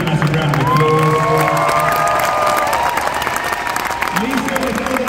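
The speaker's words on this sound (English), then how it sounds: "to Megan, Steve, Dwayne, and Bruce, give them a massive round of applause." An arena crowd applauds and cheers for staff and ushers, a loud dense roar of clapping and whoops, with a sustained tonal whistle or shout rising above the noise.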